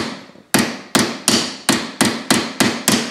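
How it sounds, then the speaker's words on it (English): A brass hammer taps a HIVIZ sight into place on a Ruger 10/22 rifle. Eight sharp, close metallic knocks fall in a steady rhythm, each one ringing briefly before the next. "make sure you're using like a brass hammer"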